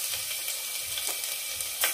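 Grated ginger and garlic frying in a pan for jackfruit biryani, a steady close hiss of sizzling oil with a few brief stirring scrapes, no voices.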